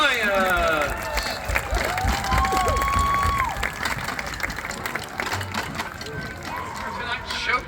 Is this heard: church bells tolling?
no